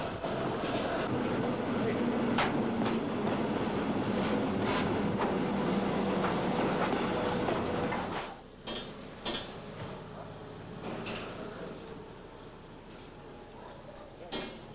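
A train rumbles and clatters steadily, then the noise drops away to a quieter hum with scattered clicks and knocks as it settles at a stop.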